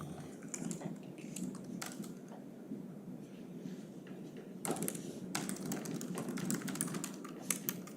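Someone types on a computer keyboard during a planning commission meeting, quick soft key clicks coming in bursts and pauses, faint and close in a quiet room.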